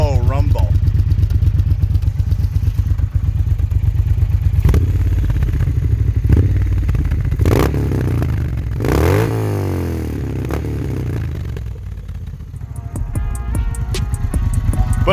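A 2018 Triumph Bonneville T120 parallel-twin idles with a low, steady rumble, then revs briefly in a couple of quick throttle blips before settling back, with clattering mechanical texture and someone talking over it.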